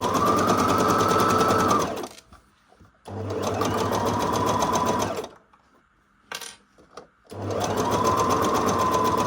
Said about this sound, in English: And then zigzag stitch the seams.